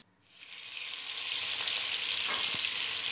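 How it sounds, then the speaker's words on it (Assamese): Crab pieces dropped into oil in a wok set off a bright sizzle that swells within half a second from near silence and then holds steady and close, with no voices. "আৰু এয়া কেঁকুৰাখিনি কেৰাহীত দি দিলোঁ, তেল অকণ দি পেলাই"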